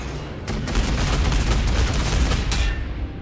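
Sustained gunfire from units in the Warhammer 40,000 Sanctus Reach strategy game, a dense, continuous fusillade of overlapping shots with a couple of sharper bursts, loud and close throughout.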